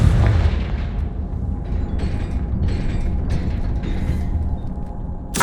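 Repeated magical blasts and booms from the Confringo fire spell in the Hogwarts Legacy video game, several bursts in quick succession with mechanical clanks and creaks between them, loud and close with no talk.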